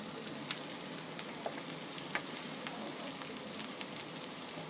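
Potatoes sizzle and crackle steadily in a hot pan while cooking achari aloo, a soft even frying hiss with small pops and no voices.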